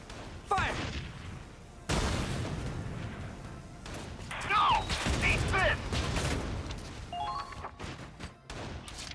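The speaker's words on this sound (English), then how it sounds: "Holy shit, that's a lot of cannon fire." Cannon fire in the video game Valkyria Chronicles 4, a series of sharp booms and crashing blasts mixed with mechanical clanks and game voices, loud and close over several seconds.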